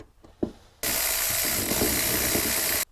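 Ratchet loosening the 14 mm carburetor bowl nut on a Powerland PD10000E generator: a soft click or two, then about two seconds of loud, steady, close-up ratcheting that stops abruptly.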